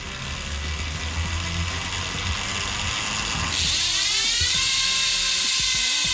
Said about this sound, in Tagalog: Test natin ngayon yung sound ng ating hubs